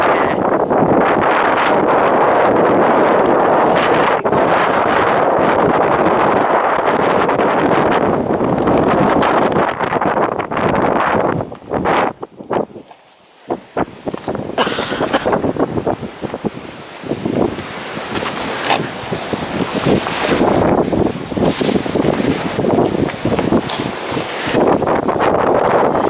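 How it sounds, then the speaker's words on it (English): Strong, continuous wind at Birnbeck Pier beach by the old lifeboat slipway buffets the microphone with loud broadband roaring gusts, briefly easing midway before surging back just as hard. "It's very windy. Very windy indeed."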